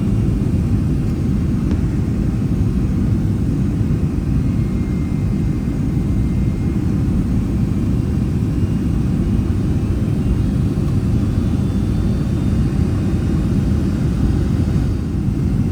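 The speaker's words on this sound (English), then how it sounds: "Coming in for a landing." Delta airliner on landing approach into Atlanta, heard from inside the cabin: a loud, steady low roar of engines and airflow that holds unbroken throughout, with no voices.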